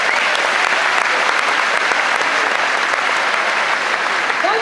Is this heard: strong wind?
no